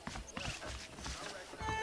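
Horse hooves clip-clop in an uneven trot in the video game Red Dead Redemption, moderately close, with people talking over them.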